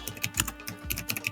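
Quick keystrokes on a computer keyboard click in an irregular burst of about a dozen taps, close and soft, with no talking.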